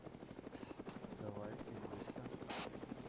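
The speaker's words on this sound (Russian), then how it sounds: "Над нами только что вертолет пролетел." Helicopter passing overhead in the ARMA 3 military game, a pulsing rotor chop beneath voices talking over radio, with a brief sharp burst near the end.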